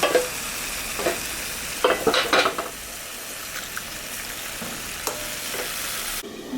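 A rohu fish head cooking in a pan with a little water, giving a soft steady sizzle broken by a few close scrapes and clinks of stirring.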